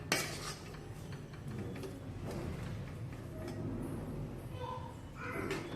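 A utensil stirs a roasted gram flour and semolina ladoo mixture with dry fruits in a pan, making continuous soft scraping and light metallic clinks, close and fairly quiet.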